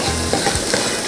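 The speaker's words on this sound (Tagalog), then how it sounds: "mainit po ang ating peanut oil. So, lagyan po natin ang ating garlic" Garlic sizzling in hot peanut oil, a dense steady crackle with a few faint clinks of a utensil stirring, close and alone without talk.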